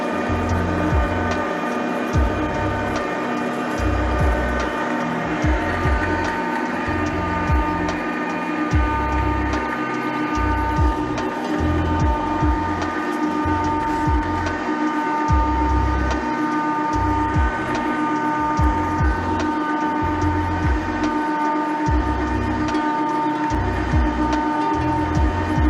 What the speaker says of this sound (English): That's how thread rolling machine works.